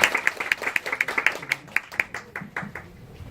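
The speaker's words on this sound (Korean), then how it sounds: "큰 박수 부탁드립니다" Audience applause for a guest speaker at an education event, a burst of individual claps that is fairly sharp at first and then thins out into scattered, fading claps.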